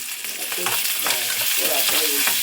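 Onions and curry leaves fry in a hot pan, giving a steady close sizzle broken by repeated spatula stirs and scrapes.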